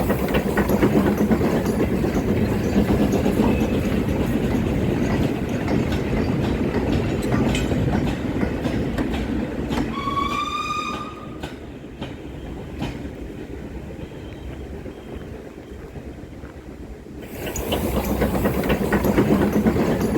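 Steam 0-4-0 saddle tank locomotives labor past hauling a freight train on a heritage railway, with a rumbling chuff and clanking wagons, a shrill whistle sounding midway before the noise briefly drops and swells again.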